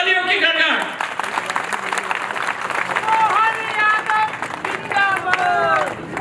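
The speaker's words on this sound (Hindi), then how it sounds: "तालियों की गड़गड़ाहट बजाओ।" Crowd applause at a political speech by a Union minister: a steady, loud wash of clapping and crowd noise lasting throughout, with voices calling and talking over it.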